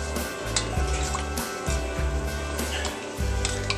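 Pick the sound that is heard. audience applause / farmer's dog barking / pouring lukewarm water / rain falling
pouring lukewarm water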